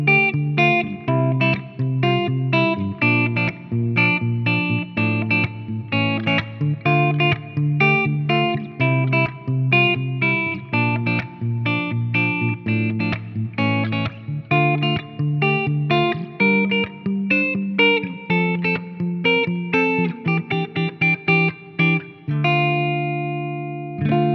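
A clean electric guitar plays a steady picked melody through a Victory Kraken MKII amplifier, with a dark, warm tone and a touch of reverb from a UAFX Heavenly Plate pedal, no voices.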